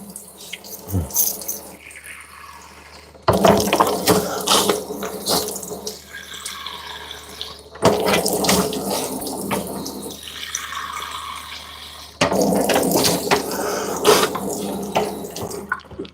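Tap water runs into a sink as someone rinses their nostrils, coming in steady bursts with short quieter gaps between them, close by, while a person talks over it in places.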